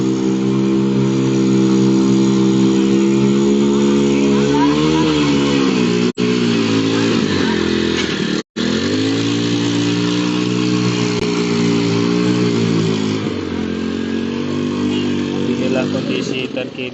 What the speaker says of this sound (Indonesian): Motor besar ini berhasil lewat nih kayak Tribuners.